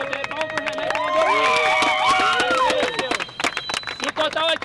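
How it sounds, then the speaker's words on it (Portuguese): A small group claps and cheers amid excited chatter and shouting voices, irregular bursts of applause mixed with lively talk from nearby people. "Palmas pro Maurício também, que aceitou dividir a grana pro Renan"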